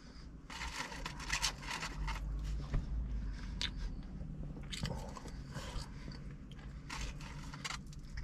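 Salty Burger King french fries being eaten up close, with repeated crisp bites and chewing crunches over a few seconds, fairly quiet and with no talking.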